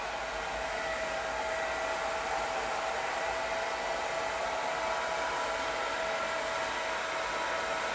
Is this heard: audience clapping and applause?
no